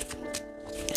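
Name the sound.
shuffling oracle cards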